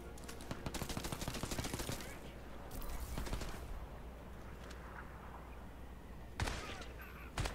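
Rapid bursts of automatic gunfire from the video game Crysis 3 rattle through the first few seconds, then thin out into scattered shots against a low game-world rumble.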